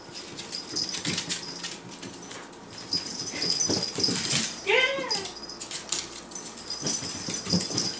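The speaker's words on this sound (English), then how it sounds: "My dog." A small puppy gives a brief, high whimpering whine near the middle, heard close up over a busy, rustling indoor background.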